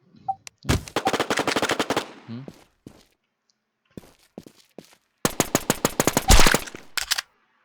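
Gunfire in the survival shooter Infestation The NewZ, heard as two loud bursts of rapid automatic fire separated by a few scattered single shots, with no voices.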